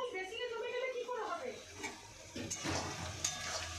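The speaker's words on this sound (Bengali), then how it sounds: "আগে পেঁয়াজটা ভাজা হচ্ছে" Onions fry in a pan in a home kitchen, a soft steady sizzle with stirring scrapes and a few utensil clinks, fairly quiet and continuous throughout.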